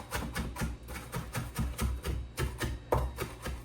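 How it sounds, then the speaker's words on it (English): Rapid knife chopping of parsley on a cutting board, a quick, uneven series of soft thuds and taps repeating steadily, close by. "Most of your time will be spent just chopping."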